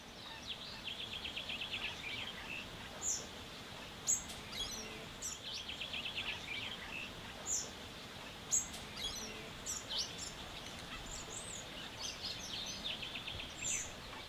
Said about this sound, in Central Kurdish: کەنەسمە باڵندەیەکی کۆچەریە